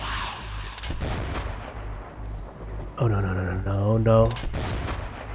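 Gunfire in Metro 2033 Redux pops in a series of close shots and impacts, with a brief spoken word partway through and a harsh, tonal blare rising near the end.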